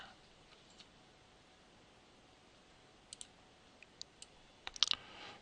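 Faint clicks sound against quiet background hiss, most likely a computer mouse clicking through reporting software: a few scattered single clicks, then a quick cluster of sharper clicks near the end.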